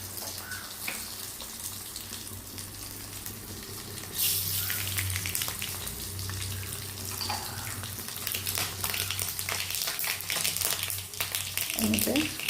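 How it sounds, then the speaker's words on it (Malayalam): Mustard seeds dropped into hot oil in a pan: a continuous sizzling hiss that grows louder and busier partway through, with spattering crackles, heard fairly close while a voice talks faintly over parts of it. "ഇനി നമുക്കിനെ കടുക് വറുത്തെടുക്കാമേ"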